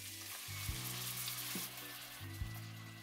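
Mutton pieces hissing in hot ghee with ginger garlic paste and turmeric, a steady close sizzle with a couple of brief clinks and stirring scrapes, no talking.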